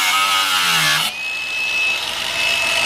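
A power tool cuts into a rare Honda, a loud, harsh grinding whine that shifts abruptly in pitch partway through and then holds a steady high-pitched cutting tone close up.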